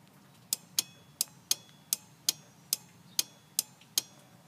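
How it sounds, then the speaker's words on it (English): A car horn relay clicking during a Hella Supertone horn install gives about ten sharp, evenly spaced ticks, close and clear over a low quiet hum, with no voices. "See, you can hear the relay going off."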